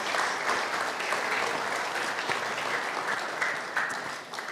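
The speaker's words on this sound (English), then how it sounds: "So another round of applause for them," An audience applauds the RDC delegates at a junior football fairest and best awards night, a sustained wash of clapping from a large crowd that holds steady before fading slightly at the end.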